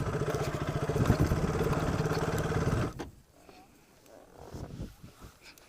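KTM motorcycle engine revving loudly and steadily as the bike pushes into deep soft mud, then cutting off abruptly, leaving quieter rustling and faint background sounds.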